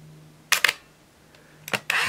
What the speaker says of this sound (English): I saw the lens move to focus, and then the shutter went off and the film advanced